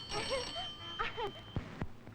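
An old-fashioned telephone bell rings in a domestic scene, a couple of bursts of ringing with tonal clatter followed by a few sharp knocks, with no speech over it.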